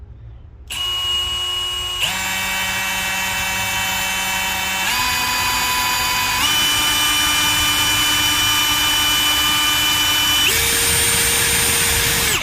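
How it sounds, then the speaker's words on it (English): A power drill with a flame-heated hole saw whines steadily and loudly, its motor pitch stepping up several times as it bores through a plastic tub, with no talk. "So we flamed our drill bit and the hole saw. We have to go very slow."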